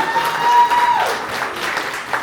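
Short burst of audience applause in a theater at a sponsors appreciation event, a crowd clapping at close range, swelling briefly and then tapering off.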